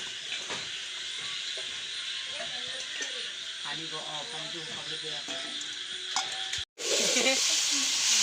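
Hot oil sizzles in a frying pan with a steady, close hiss that runs the whole time, while voices talk over it; a brief dropout near the end is followed by a louder burst of sizzling.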